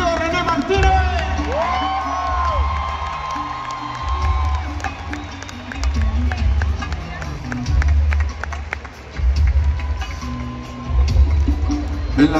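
A large arena concert crowd roars, cheers and whoops continuously while an announcer speaks over a PA during a live show in Monterrey, with low bass notes sounding underneath.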